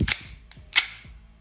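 WE 1911 gas blowback BB pistol firing two sharp cracks about two thirds of a second apart, each with a brief metallic slide clack trailing off, close and loud with no talk.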